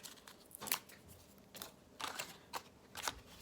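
Scissors snip through paper while cutting out a new circle for an Easter basket, giving four crisp, close cuts at an irregular rhythm with quiet pauses between them.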